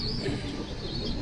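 Pigeons coo softly and continuously inside a loft, a low rounded warble close by with no voices.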